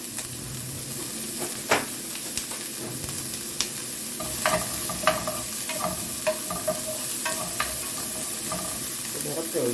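Onion fries in a pan and is stirred, with a close, continuous sizzle and hiss under repeated scraping and tapping of the spoon. The stirring grows busier in the second half.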